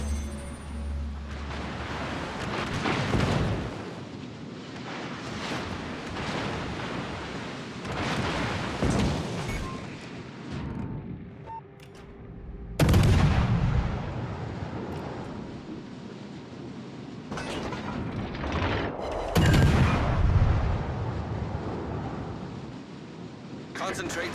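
Warship gunfire and artillery in a naval video game, repeated heavy booming blasts and rumbling explosions over a continuous roar, with a sudden loud burst midway, and a voice speaking at points.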